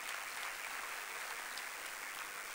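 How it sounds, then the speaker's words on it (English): An audience at a school annual day claps for its prize winners, a soft, even wash of many hands heard from a distance and holding steady throughout. "A big clap to all of"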